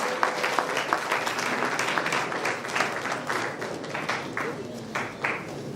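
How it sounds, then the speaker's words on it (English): At a live event, the audience claps for a musician as he comes to the stage. Many hands clap in a steady, fairly close burst that keeps going for several seconds. "Round of applause for him."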